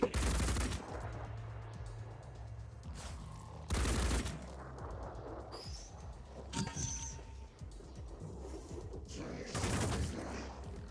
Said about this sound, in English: he's shooting him again